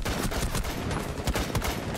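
Continuous rapid automatic gunfire in a video game, close and loud, a dense unbroken stream of shots throughout.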